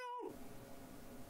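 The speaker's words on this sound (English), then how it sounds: "You got a little cat there." A single short cat meow sounds at the very start, quickly fading into a continuous noisy background.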